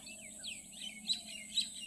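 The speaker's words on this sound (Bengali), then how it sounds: "ওই দেখো টিনের চালে পাখি বসে কুই কুই কুই কুই করছে এই যে জোড়া শালিক দেখো বন্ধুরা" A pair of mynas on a tin roof call with quick, thin chirps and a couple of sharper squeaky notes, fairly faint against a quiet background.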